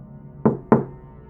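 Two sharp knocks on a door, loud and close, spaced about a quarter second apart in a quiet room.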